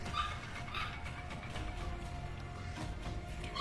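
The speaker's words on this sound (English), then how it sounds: "The dog won't stop." A dog barks and yips repeatedly at a distance, restless and persistent, in a home where a video game is being played; light background noise throughout, no clear speech.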